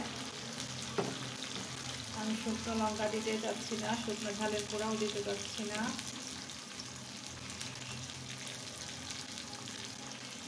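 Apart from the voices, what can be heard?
frying green chili in a pan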